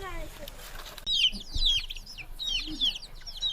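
Chickens cluck in a rapid, close series of squawky calls on a Padma River char island, while a voice speaks nearby.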